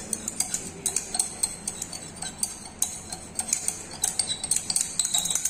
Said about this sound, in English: We need to constantly stir this so that the powder gets dissolved in this.